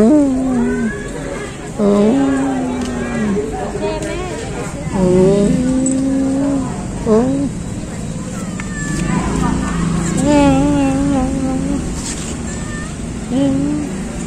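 An angry female cat yowls and growls in a Chinatown-area eatery, repeated drawn-out caterwauls rising and falling close by, with a person talking softly to it in between.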